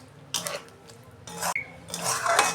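Spoon scraping and clanking against a pan while soybean curry is stirred, a few bursts of metallic clatter and scraping close by, with no voices.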